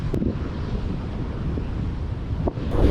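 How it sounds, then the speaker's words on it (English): Waves surging against a rock wall at high tide, a steady rushing roar with heavy wind buffeting the microphone, loud and close. "Some crazy waves coming in, so I gotta be careful here."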